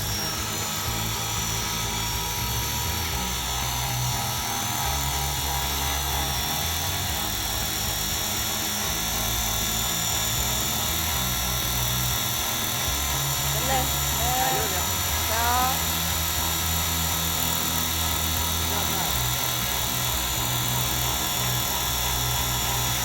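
A radio-controlled Bell 206 scale model helicopter flies nearby, its rotor giving a steady, loud whine and buzz throughout, with brief chirpy tonal sweeps midway; someone talks faintly under the noise.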